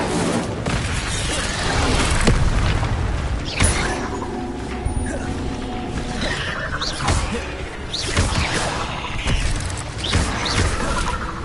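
Repeated fire spell blasts from Incendio in Hogwarts Legacy, a series of booming, crackling bursts spread across the span amid other spell effects, with a voice calling out spell names.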